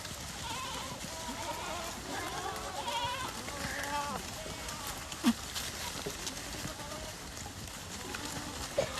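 A herd of young goats bleats in a forest, several overlapping cries near and farther off amid rustling movement and quiet human talk.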